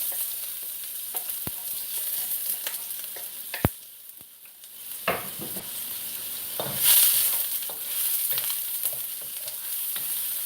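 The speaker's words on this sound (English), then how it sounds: "we're going to go ahead and put in our ginger and our red onion" Ginger and red onion fry in a hot pan for a vegan egg roll bowl. A steady bright sizzle carries scattered sharp clicks and scrapes, and a louder hissing burst comes partway through.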